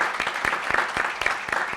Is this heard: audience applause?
yes